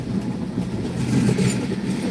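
A Norfolk Southern train rolls past with a steady low rumble and faint wheel noise, close and loud, with no voices.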